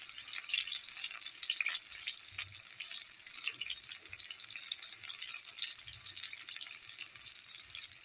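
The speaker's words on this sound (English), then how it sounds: "all the pieces are nicely fried" Fish finger chickpea fritters frying in hot oil, a soft steady hiss and crackle with scattered faint pops, quiet and continuous throughout.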